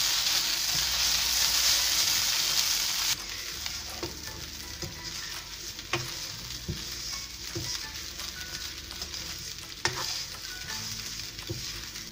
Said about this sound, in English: Now mix the poha nicely with light hands.